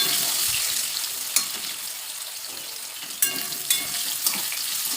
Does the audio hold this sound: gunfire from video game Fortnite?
no